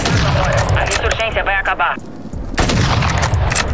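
Bursts of rapid gunfire crackle in a Call of Duty Warzone 2.0 match, dense volleys before and after a short lull, with a player's voice speaking over the shooting.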